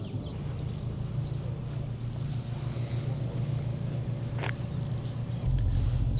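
A sports car rolls up and settles into an idle with a steady low engine hum, the rumble swelling louder and closer near the end against faint outdoor background at a Porsche and BMW car gathering.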